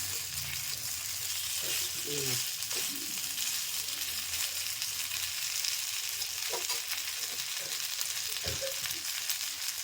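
Adai batter sizzling on a hot pan as small rounds are poured for a vegetable adai, a steady frying hiss running throughout with occasional soft scrapes and a few clicks.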